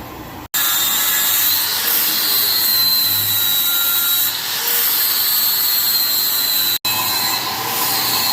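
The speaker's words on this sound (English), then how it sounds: "The cut time on the big tubing here is about 9 minutes from the time you start to the time it finishes on the bandsaw." A bandsaw cuts through large steel tubing for a log bed headache rack, producing a loud, steady high-pitched metallic whine and grinding hum that runs continuously apart from two very brief dropouts.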